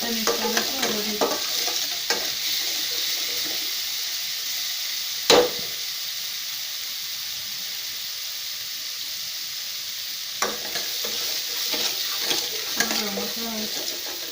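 Turmeric being stirred in a pan for an Assamese mutton dish, a steady sizzling hiss with scraping spoon strokes near the start and again toward the end and one sharp knock in the middle.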